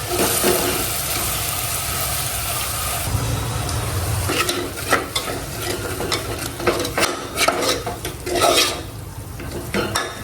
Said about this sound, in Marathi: हे सर्व मिक्सर आहे ते असं ढवून घ्यायचं पालीने मिक्स करून घ्यायचं